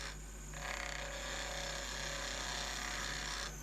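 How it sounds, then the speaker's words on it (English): Black Palm pen blank spinning on a wood lathe at about 2000 RPM while a 19 mm (3/4 inch) Robert Sorby skew chisel cuts it, giving a steady close whirring scrape with a low motor hum that carries on throughout. "I lay this spinning at about 2000 RPM, and I'm using a 19mm or 3/4 inch standard skew"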